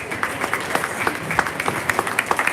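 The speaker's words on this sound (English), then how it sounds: "Let's give them a nice round of applause." An audience at a junior fair swine show claps together in a dense, steady round of applause of moderate loudness, lasting a couple of seconds with no voice on top.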